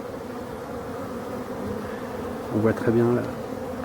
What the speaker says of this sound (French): abeilles qui dansent devant la ruche, là, devant les ruches. Donc c'est des vols d'orientation.